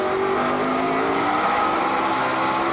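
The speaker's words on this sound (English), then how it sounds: "You hear Junior's engine just jumping in RPM. Spun the tires a little bit off the corner." A NASCAR race car engine climbs sharply in RPM as the tires spin coming off a corner, a loud, close, rising roar that holds steady throughout.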